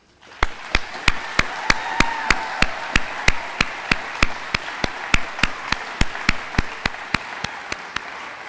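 Audience applause at a 2023 graduation ceremony: steady crowd clapping throughout, with sharp, evenly spaced louder claps standing out near the microphone, filling the room without any talking.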